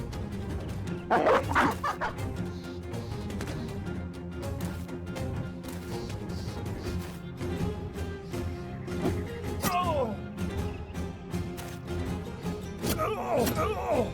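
A war dog in the video game Battle Brothers barks and yips in short bursts amid battle thumps and game sounds, with a voice talking throughout.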